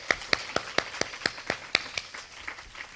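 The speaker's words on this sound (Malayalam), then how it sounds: "എല്ലാവരും ഒന്ന് കൈയടിച്ചേ." An audience at a Bible convention claps in a steady, even rhythm of sharp beats about four per second, close and distinct, gradually softening and thinning out toward the end.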